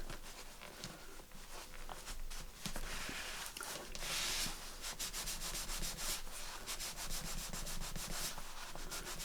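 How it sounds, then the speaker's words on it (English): A towel rubs glue off a shiny paper figure on a journal page, producing continuous close, dry scrubbing strokes with brief pauses and quick back-and-forth bursts. "And that just rubs it off because the people are very, very shiny."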